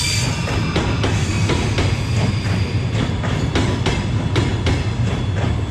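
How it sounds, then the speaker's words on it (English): A local train at Kaliningrad's northern railway station rolls past loudly and close, wheels clacking over rail joints in a steady rhythm beneath a continuous rumble, with no talk. "waiting for the local train that will get me there"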